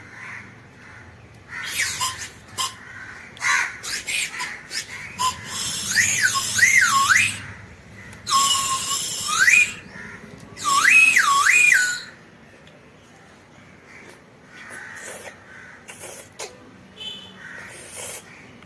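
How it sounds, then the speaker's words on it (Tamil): A candy lollipop with a built-in whistle is blown in several bursts of shrill, warbling whistling, with rising and falling pitch, between quieter breathy puffs and handling noise. "lollipop with whistle"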